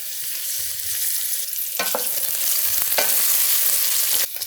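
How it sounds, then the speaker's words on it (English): Artichokes and tomatoes fry in a pan for a shrimp dinner, giving a steady close sizzle broken by a few sharp scrapes from stirring. "We're going to give this a few minutes to cook, maybe about 5 minutes, until the artichokes start to brown, the tomatoes will caramelize a little bit."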